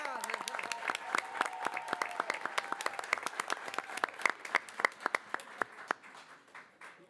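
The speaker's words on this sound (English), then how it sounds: "Big round of applause for Kinsley." An audience at a school board meeting applauds for Kinsley, a young student, with dense steady clapping that thins into sparser, louder individual claps toward the end, while voices talk over it.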